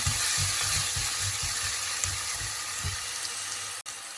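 Ginger garlic paste sizzling in hot oil with fennel seeds for a spicy Sri Lankan beef curry, a steady close frying hiss with soft stirring bursts throughout.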